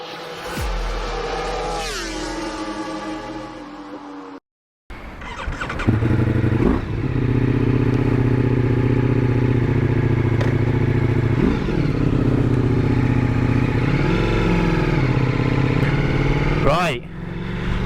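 A 2021 Ducati Multistrada V4S rides along motorways, its engine rising and falling through gear changes under heavy wind rush, with a rider talking over the noise for much of the clip.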